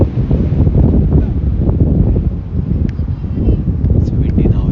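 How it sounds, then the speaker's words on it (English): Steady, loud wind buffeting the microphone at an outdoor youth cricket match, a continuous low rumble and rush that persists throughout. "It's windy now."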